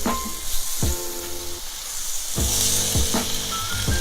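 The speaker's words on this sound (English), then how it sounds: "You just hear that nice sizzling from these nice juicy tomatoes." Thick, juicy tomatoes sizzle in a hot pan with a steady frying hiss, broken by a few sharper crackles and spits, close up with no talking.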